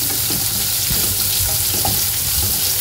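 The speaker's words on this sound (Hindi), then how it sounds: "अब इसमें मिला देंगे हम स्लाइस किए हुए हमारे कटे हुए प्याज" Sliced onions frying in masala for restaurant-style dry chole, a steady, dense sizzle running throughout at close range with no talk.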